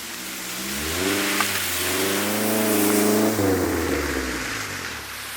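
A lowered Honda S2000 on air suspension revs steadily in snow, rising and falling in pitch as its wheels spin without grip, loud and continuous for several seconds.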